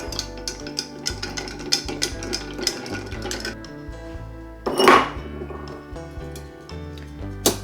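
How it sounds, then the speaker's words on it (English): Ice cubes clinking and rattling as a Jack Daniel's blackberry cocktail is stirred in a mixing glass with 1-inch cubes, a steady run of light taps with one louder clatter near the middle. "So we're going to stir this with some 1-inch ice cubes."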